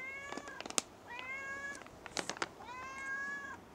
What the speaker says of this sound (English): I love it when you meow.